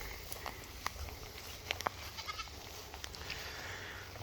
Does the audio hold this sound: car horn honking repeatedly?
no